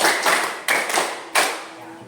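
Three sharp bursts of group hand clapping land at roughly even intervals, each decaying briefly, part of a counted clapping game led aloud.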